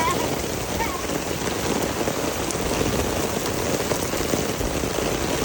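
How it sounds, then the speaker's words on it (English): Heavy rain driven sideways by strong wind hisses loudly and evenly across the whole span, a dense wash of drops with no pauses and no speech over it. "this rain is going sideways, like Bubba said."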